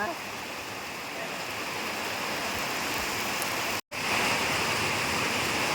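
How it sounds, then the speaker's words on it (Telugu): Heavy rain pours steadily outside during a village Ganesh festival, a dense continuous hiss close by, broken by one brief dropout midway. "వాన చూడండి ఫుల్ వాన వస్తుంది"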